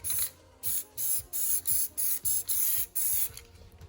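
Short repeated bursts of an aerosol spray can of VHT paint hiss onto a Yamaha FJ1200 motorcycle fairing, about nine close blasts in a steady rhythm with brief pauses between them.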